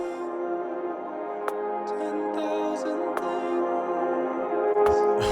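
Pitched-up, reversed samples swell in a sustained reverb-drenched pad, with a few sharp transient clicks and faint swirling higher tones over the steady wash.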